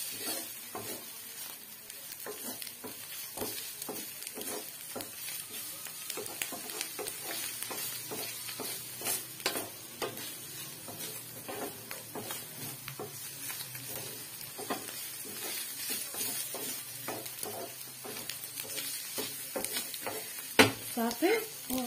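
Chicken steak sizzles and fries steadily in a pan, with frequent stirring scrapes and clinks of a utensil against the pan throughout, close and moderately loud, and no talking.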